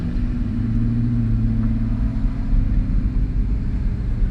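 An Aston Martin supercar engine gives off a deep, steady rumble close by, a continuous low throb without sharp revs, with no talking over it.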